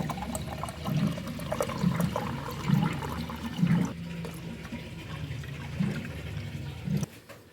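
Water poured into a glass at home, a steady liquid splash and trickle with several louder gurgling pulses in a fairly close, quiet room.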